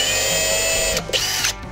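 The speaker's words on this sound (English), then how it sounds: "And then just drill two little pilot holes." An electric drill whirs steadily for about a second, then stutters through a few short bursts as it bites in and stops, drilling small pilot holes for screws.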